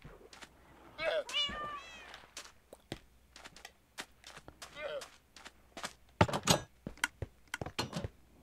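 A cat meows several times in Minecraft, short bursts rising over footstep-like clicks and other game noises, with a person talking between them.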